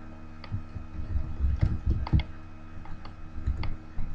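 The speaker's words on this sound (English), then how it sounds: "So I'll type that in for you." Keys clacking on a computer keyboard in irregular bursts, typing a search into Google, near and moderately loud over a steady low background hum with no talking.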